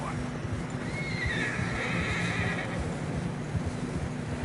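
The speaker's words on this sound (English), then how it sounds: "Horses are struggling." A horse whinnies in Red Dead Redemption 2 while riders push through deep fresh snow on a narrow path; the neigh rises and trembles midway over a steady wind-like hiss and faint hoof sounds.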